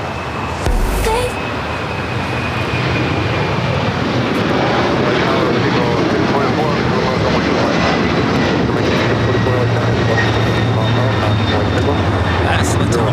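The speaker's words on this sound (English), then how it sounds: "That's Latam Airlines Flight 2479 heading to Lima, Peru at 767 to 300 ER." LATAM Airlines Boeing 767-300ER departing Los Angeles LAX: a loud, steady jet engine roar fills the scene throughout, with a low rumble building late on, while a person talks over it.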